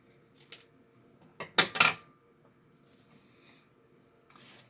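Scissors snip through a strip of folded paper for a hexaflexagon, a couple of quick crisp cuts in the middle with fainter snips at either end, close and alone.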